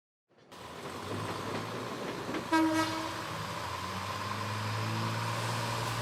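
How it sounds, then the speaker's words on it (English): An old historic CPH train, about 100 years old, rumbles steadily along, with a short horn blast partway through, the engine drone continuing underneath. "a clip of you taking us on a journey on that beautiful old historic train"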